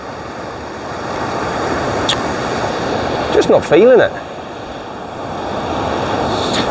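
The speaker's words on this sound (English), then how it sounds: "You've got some serious rushing water down that way, some serious force in there" A Welsh river rushes with serious force, a broad, steady roar of churning water close by, with someone briefly speaking over it midway.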